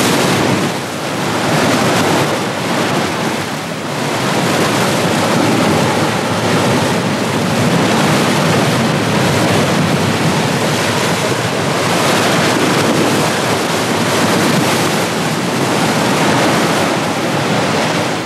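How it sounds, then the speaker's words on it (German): Pacific Ocean surf at Big Sur, California, roars continuously with steady breaking waves and some wind rush, loud and close throughout with no voices. "Dies ist der Pazifik, auf den Balboa von den Bergen Dariens hinausblickte."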